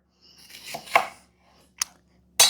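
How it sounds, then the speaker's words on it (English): A knife cuts an onion into chunks on a board, a few separate crunchy chops with short pauses between them, close and clear, no talking. "so I'm cutting this onion in chunks like that"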